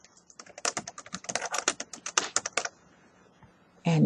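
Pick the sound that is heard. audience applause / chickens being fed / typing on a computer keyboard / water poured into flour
typing on a computer keyboard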